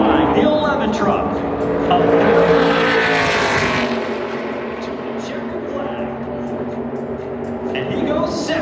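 A NASCAR Craftsman Truck Series race truck on a qualifying lap at Phoenix Raceway roars past, engine swelling to a loud peak then trailing off, under continuous commentary.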